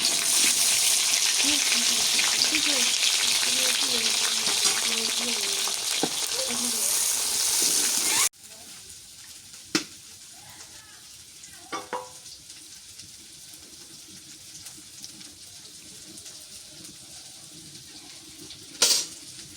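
Bay leaf, cinnamon, garam masala, cloves and onion hit hot oil for an Eid Ul Adha meal, giving a loud close sizzle with stirring clatter that drops to a quieter simmer halfway, with sharp utensil knocks and a faint voice.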